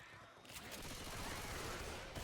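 Dense, continuous gunfire from several weapons in Left 4 Dead 2 on the Dark Carnival campaign, a loud unbroken rattle of rapid shots throughout, with no clear pauses.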